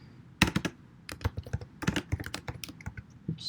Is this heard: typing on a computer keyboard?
yes